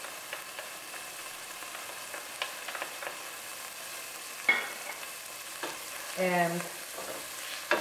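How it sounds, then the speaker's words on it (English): Pancetta, onion and hot pepper flakes frying together in olive oil for a bucatini all'amatriciana sauce, a faint quiet sizzle with occasional soft scrapes and a short clatter of stirring. "you're gonna throw in pancetta, onion, and hot pepper flakes all together"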